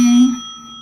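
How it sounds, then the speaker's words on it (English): A single bright bell ding rings out and lingers briefly, alone. "Don't forget to hit the notification bell"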